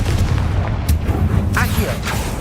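Confringo fire blast spell cast in Hogwarts Legacy, a booming burst with crackling bursts layered over dense game rumble and music, medium-loud and close.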